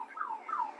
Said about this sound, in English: Everybody's alarms is going off.